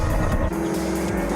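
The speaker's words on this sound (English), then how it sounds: "we watch Ellison prepare to pass another car in front of him" A race car's engine howls loud and close at night on a racing circuit as it closes to pass a Mini ahead, a dense, continuous roar with shifting engine tones and no talk.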